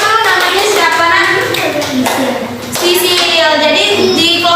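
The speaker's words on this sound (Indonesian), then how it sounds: "Silakan tepuk tangan untuk kelompok 2." A schoolroom of children claps in a loud, close burst for one group, rhythmic hand claps mixed with a teacher's voice and kids' chatter.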